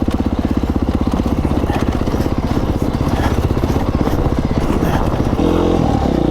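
A Beta 500RRS dirt bike rides through mud at Clay Peak, Idaho, its engine loud and close with a rapid chugging, clattering beat that shifts to a rougher, lower note near the end.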